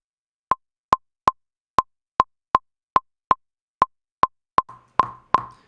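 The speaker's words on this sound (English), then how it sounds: "Triggering the rhythm of the synth with that, and that is opening and closing a noise gate" Synth chords for a dance-remix drop are chopped rhythmically by a noise gate opening and closing: a dozen crisp, short staccato pulses in an uneven beat, ending with a few longer, fuller hits, alone and up close.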